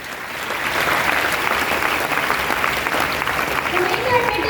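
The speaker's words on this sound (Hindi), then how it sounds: "जोरदार ताली अविनाश सर की" A crowd at a DXN success-story gathering breaks into loud, dense applause for Avinash sir, swelling in the first half-second and then holding steady, with a voice briefly heard near the end.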